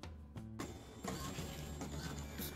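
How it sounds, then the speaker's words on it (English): An inkjet printer feeding and printing an image onto wax paper, a quiet mechanical whir with a short motor tone, clicks and a sliding carriage rumble. "stick it in the printer and print your image as usual on the wax paper"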